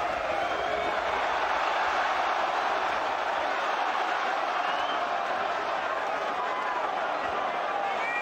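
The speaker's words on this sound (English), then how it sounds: "Listen to the crowd here. Thunderous noise reverberating around this arena." Boxing arena crowd at the Froch vs. Kessler rematch roars in a dense, continuous wall of noise that fills the hall, with commentary talk layered over it.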